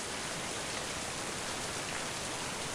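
Steady, dense rainfall fills a nighttime scene in the video game Mind: Path to Thalamus, a constant broadband hiss with no breaks or thunder, even and close throughout.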